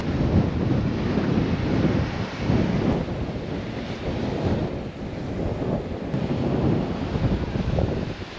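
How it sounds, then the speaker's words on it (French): Rough, agitated sea surf crashes continuously at a seaside spot in Guadeloupe, a loud, dense roar of breaking waves mixed with gusting wind buffeting the microphone. "magnifique spot, mer très agitée, tout le temps, toute l'année c'est comme ça"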